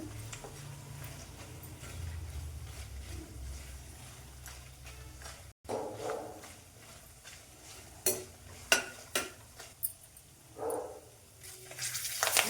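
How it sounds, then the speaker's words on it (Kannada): Poha crisping in hot oil while being made into chivda, a steady low sizzle with stirring and intermittent sharper crackles and scrapes that grow busier toward the end. "ಇವಾಗ ಇದು ಫಸ್ಟು ಎಣ್ಣೆಯೊಳಗೆ ಕರ್ಕೋಬೇಕು."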